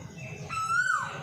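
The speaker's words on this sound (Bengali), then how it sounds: "পাখিদের ডাকটা খুব মিষ্টি।" Birds calling outdoors in the late afternoon toward dusk: a single clear rising-then-falling whistled call, fairly close, over quiet background hiss with no talking.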